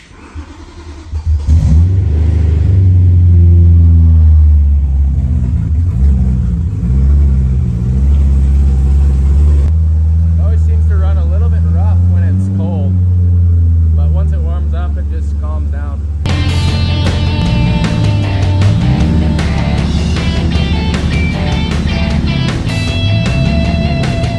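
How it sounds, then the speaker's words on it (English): A BMW M3 engine cranks and catches, then runs with a loud, close rumble, settling into a steady idle with occasional revs. "Get a little start up on the BMW."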